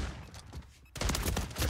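Lockwood 680 shotgun fire in Warzone 3, a dense burst of loud, rapid crackling shots kicking in after a quieter lead-in, with no voices.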